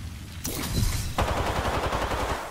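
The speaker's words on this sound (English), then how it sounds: "Opening fire." Gunfire in Apex Legends: a sudden loud burst, then rapid sustained automatic fire with a fast even rhythm, close and dominant to the end.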